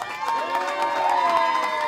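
An audience at a televised singing competition grand final cheers and applauds for the judges, a steady wash of crowd noise and shouting with clapping underneath, continuous and fairly loud.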